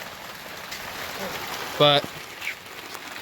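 Rain falls on tarps covering cars in a work yard, a soft, steady patter throughout, with a brief spoken word and a short tonal blip partway through.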